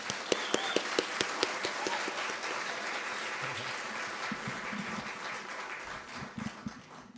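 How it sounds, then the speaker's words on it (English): Audience applause at the Sakya Temple of Peace opening ceremony, starting with a few distinct close claps before swelling into sustained clapping from a crowd, fading with scattered claps at the end. "Let's give Rinpoche a big round of applause."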